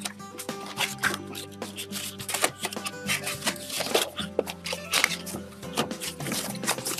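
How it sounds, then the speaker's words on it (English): A flat cardboard box for 12 lip balm tubes being unfolded by hand: close, dry crinkles, flaps and rubbing scrapes in irregular bursts. "So let's unfold the box and we'll go through how to fold it."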